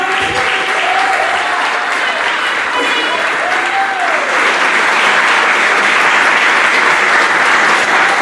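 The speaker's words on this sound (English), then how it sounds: "Let's have an applause for them and the band." Steady, loud applause fills a high school district board meeting room throughout, a crowd clapping continuously with a few faint cheers mixed in.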